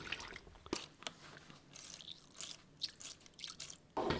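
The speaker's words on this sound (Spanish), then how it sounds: "Y ahora los voy a aclarar con agua del grifo" Tap water rinses laboratory glass beakers in a sink, making close, irregular splashes and drips with a sharper gush near the end.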